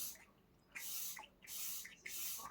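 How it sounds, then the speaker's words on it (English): Setting spray misted onto a face after makeup, three short close hissing bursts with brief pauses between them. "an incredible setting spray"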